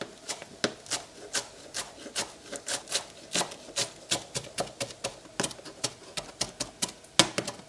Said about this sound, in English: I'm going to chop up some coriander.